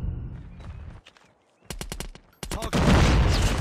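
Video game firefight: sharp bursts of rapid automatic gunfire come close and loud, broken by short near-silent gaps, then build into a dense, sustained volley at the end.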